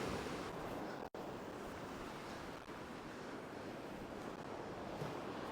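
Heavy storm surf rolls across a sandbar off the Illawarra coast, a continuous loud roar of breaking waves and wash with wind buffeting the microphone and one brief dropout.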